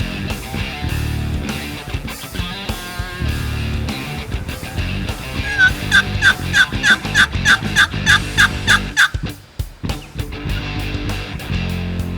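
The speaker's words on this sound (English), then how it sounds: "we heard the turkey gobble" A wild turkey gobbles repeatedly in a fast rattling series across the middle of the clip, heard outdoors on a hunting trip near a river over a dense, busy background.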